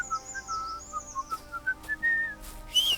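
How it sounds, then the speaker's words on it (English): Tuneful whistled notes in short rising and falling phrases call a horse in the video game Kingdom Come: Deliverance II, clear and close over a quiet background, with a few brief noisy bursts between phrases. "What are you whistling for?"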